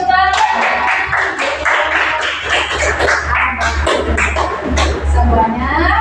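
An audience at a Quran recitation gathering claps, a brisk ragged patter of many hands that comes and goes in bursts, with a voice talking over it.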